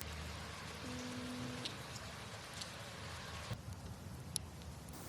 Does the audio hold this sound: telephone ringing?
no